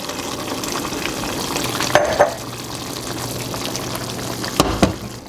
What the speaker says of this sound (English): we are going to carefully add a 1/2 cup of our tequila, a 1/2 cup of the orange liqueur